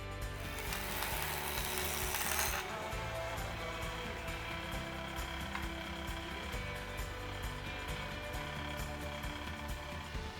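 A jointer squares up the edge of a blackwood board with a loud broadband whine and rush for the first few seconds, then the machine keeps humming with rhythmic clicking as the cut ends.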